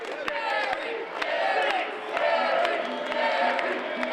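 A live wrestling crowd at an indoor independent show chants in unison, a steady rhythmic roar of many voices with sharp impact thuds punctuating the noise.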